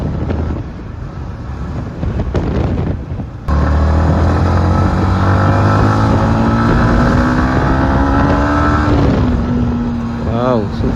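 A Yamaha MT-15 motorcycle engine drones steadily on the road, rising in pitch as it accelerates through gears, with heavy wind buffeting the microphone throughout.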